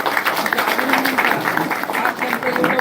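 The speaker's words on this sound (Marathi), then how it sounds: "आपण जोरदार या ठिकाणी टाळ्या वाजवा" Sustained applause from a crowd at a Walchandnagar election rally for an independent candidate, steady dense clapping filling the whole stretch at moderate loudness with a murmur of voices mixed in.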